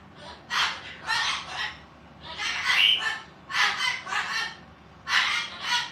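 A pet parrot named Lou squawks loudly in repeated harsh bursts, about seven calls spaced across several seconds, close to the listener with brief quiet gaps between them.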